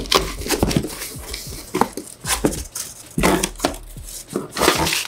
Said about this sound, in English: let's cut into this box. Shout out to the slice tool